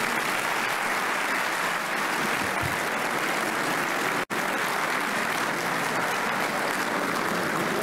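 Sustained applause from a forum audience at the opening of the Invest in Senegal forum, a dense, even wash of clapping that continues steadily with only a momentary cut.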